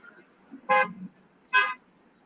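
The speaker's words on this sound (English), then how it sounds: "Stop honking at me." A car horn gives two short toots about a second apart, close and loud over a quiet background.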